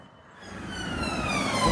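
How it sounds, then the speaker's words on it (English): A siren wails and grows steadily louder as it approaches, its rising and falling tones cutting over low traffic rumble. "Is this an ambulance? It is."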